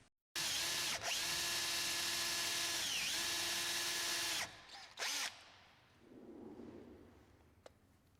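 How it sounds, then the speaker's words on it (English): A power drill whines loud and close for about four seconds as it bores a hole for a motor mount, with brief speed dips along the way. The motor then winds down with a short final burst, and a faint clatter follows. "After the hole for the motor is drilled"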